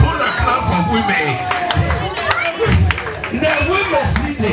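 Crowd clapping and cheering for women at the Isowane launching ceremony, a dense, continuous wash of hand claps and crowd noise with voices talking and shouting over it throughout.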